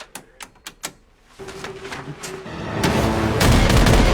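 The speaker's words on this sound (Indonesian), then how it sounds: "tombol ditekan. Tank menembak." A tank cannon fires a quick series of sharp, heavy blasts, followed by a loud rumbling roar that swells and stays intense.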